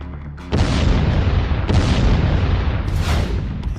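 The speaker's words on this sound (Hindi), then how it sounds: "ईरान के बैलिस्टिक मिसाइल हमलों से दहल उठा बेरशेवा" Heavy explosions from Iranian ballistic missile strikes hitting Beersheba, Israel, a deep rumbling boom erupting suddenly and sustained, with further blasts rolling in, loud and dense with no speech.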